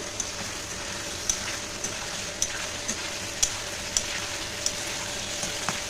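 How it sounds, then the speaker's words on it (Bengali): Cumin, ginger and green chilli paste frying in a pan for a fish curry, a steady close sizzle with a faint hum beneath and occasional small sharp spits and pops. "দিয়ে দিচ্ছি এই জিরে আদা আর কাঁচা লঙ্কা বাটা খুব বেশি মশলাও কিন্তু দেব না তো মশলাটা কষিয়ে নিচ্ছি"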